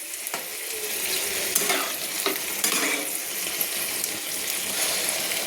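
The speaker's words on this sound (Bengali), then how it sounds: "খুন্তি দিয়ে নেড়ে নিলাম" A spatula stirs a vegetarian puin mitchuri chorchori curry in a pan after a little water goes in, giving scraping strokes over a constant sizzling, bubbling bed, close and fairly loud, with no talking.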